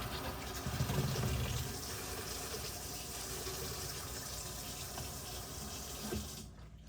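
Water steadily rushing into an under-sink water filter as it fills, a continuous close, fairly loud hiss and gush that holds for several seconds before cutting off abruptly at the end.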